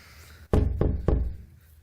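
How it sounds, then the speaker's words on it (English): Three firm knocks on a door, evenly spaced and close, each with a deep thud and short ring, alone against a quiet background. "The knocking made a note fall to the ground, right at Pooh's feet."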